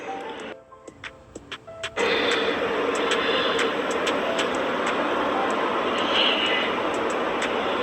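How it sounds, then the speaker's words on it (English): After a few sharp ticks and clicks, a loud helicopter roar starts abruptly and holds steady overhead, thick and continuous, with faint clicking still audible within it. "Chopper."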